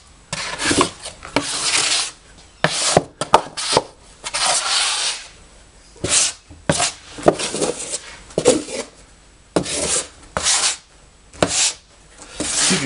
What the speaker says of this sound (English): We'll shovel it into a pile in the middle and rake it out again and then see what we've got.